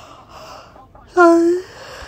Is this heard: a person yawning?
yes